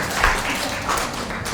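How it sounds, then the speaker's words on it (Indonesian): A short burst of clapping from an audience at a civil registry office event, thanking the registry staff, moderately loud and brief, with faint voices underneath. "Tepuk tangan dulu untuk Dukcapil"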